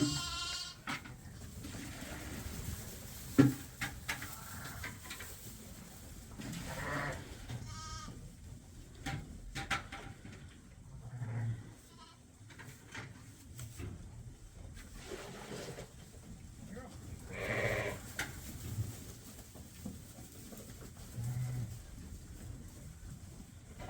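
Sheep and goats bleat intermittently on a farm, several calls at varying distances over a steady low background hum, no talk.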